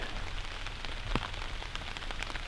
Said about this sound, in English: It's just drizzling rain.